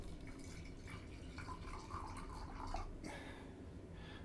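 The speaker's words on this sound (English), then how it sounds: "just fill them up" Hot water is poured into small tea cups for brewing Japanese green tea, a faint soft trickling and splashing with a few dripping accents, no talking.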